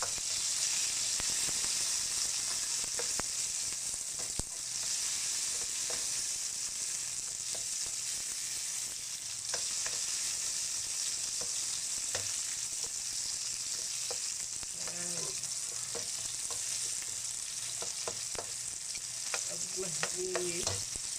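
Tomatoes and onions fry in a pan with a steady, dense sizzling hiss throughout, and faint stirring scrapes and clicks come through now and then.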